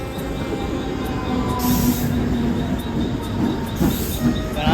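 A train pulls into a Mumbai railway station, its loud steady rumble of wheels and carriages filling the scene with occasional metallic squeals and clicks rising above the din.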